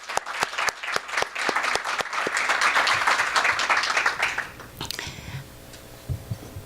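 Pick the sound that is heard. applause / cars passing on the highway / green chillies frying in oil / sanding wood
applause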